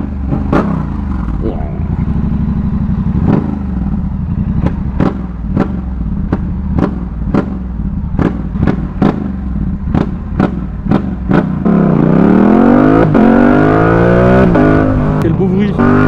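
A Yamaha R7 motorcycle with a full exhaust system and its chicane still fitted revs hard and close, with sharp repeated throttle blips that rise into a long climbing wail near the end. A voice talks over parts of it.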